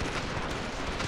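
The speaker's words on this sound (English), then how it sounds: "Let's try a handgun out." Handgun fire in the video game Ravenfield during a Roman soldiers' castle battle, a short, loud, dense burst of close shots with no talk.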